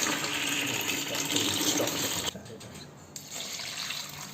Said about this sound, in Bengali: এই যে জল বেরোলো